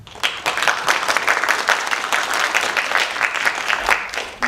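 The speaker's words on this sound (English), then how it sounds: "please join us in giving each student a warm round of applause" An audience at a youth foundation annual awards ceremony gives a warm round of applause for each student, steady and fairly loud clapping from many hands that fades slightly at the end.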